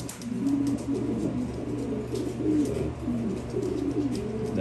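Racing pigeons coo continuously inside a loft, soft overlapping throaty calls close by over a steady low hum, with no one talking.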